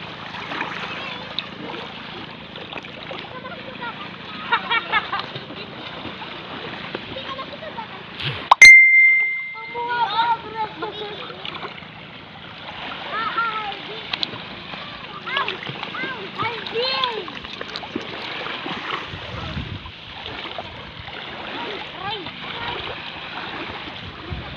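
Small, gentle sea waves splash and wash steadily along a shore during shell collecting, with people talking over the water throughout and a brief high ding partway through.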